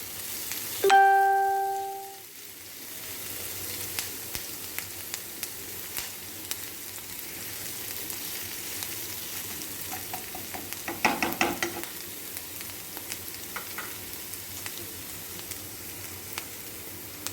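Onions frying in a pan with a quiet, continuous sizzle, a brief clatter and stir near the start, then scattered faint ticks and stirring sounds.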